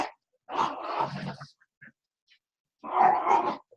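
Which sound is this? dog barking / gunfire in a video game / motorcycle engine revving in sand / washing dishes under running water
dog barking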